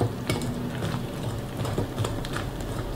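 Banana muffin batter with whole eggs being stirred and mixed in a bowl, a steady close scraping and sloshing with irregular utensil clicks, no talking.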